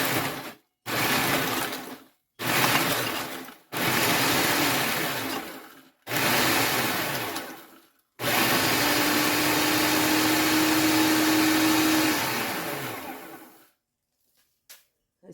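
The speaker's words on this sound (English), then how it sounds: "Put the lid on, and we want to chop and pulse." Food processor chopping and pulsing ingredients: several short loud whirring bursts with brief pauses between them, then one longer steady run that winds down, close and alone.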